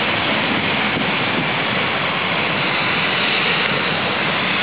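A JetBlue Airbus A320 jet, seemingly arriving from Boston at a Cayman Islands airport, gives a loud, steady broadband roar that holds constant and close throughout, with no talking over it.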